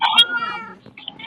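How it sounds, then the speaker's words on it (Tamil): A cat in the Minecraft video game gives a clear, loud, drawn-out meow followed by a shorter second mew, close and prominent. "இன்னொன்னு பாத்தீங்கன்னா இந்த 2 பூனை."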